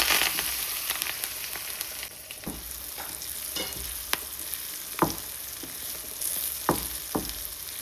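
Soybean chunks frying in hot coconut oil give off a continuous loud sizzle and hiss, broken by occasional sharp clicks and knocks of a utensil against the pan. No voices are heard.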